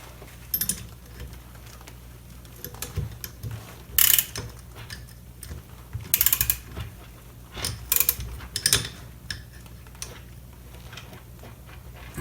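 A wrench tightens nuts on the high-compression head of an 80cc two-stroke motorized bike, giving intermittent ratcheting clicks and metallic taps in short bursts, close and moderately loud.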